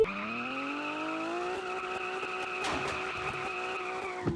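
Car tires skid and squeal in a car-selling video game, a sustained, loud, rising tonal screech that holds steady for several seconds with no talking over it.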